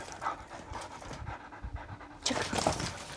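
Search and rescue dog panting rapidly and steadily at close range, rhythmic breaths continuing throughout and growing slightly louder near the end.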